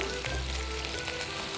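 Jaggery dissolving in water in a pot, heard as a steady hiss and bubbling sizzle, loud and close, throughout.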